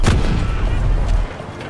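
Gunfire in the tactical shooter Delta Force Hawk Ops: a close, booming burst of shots with a heavy low rumble, lasting just over a second before cutting off.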